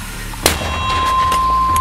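A single sharp gunshot cracks out on a Donbass front line, followed by a lingering rumble and background hum.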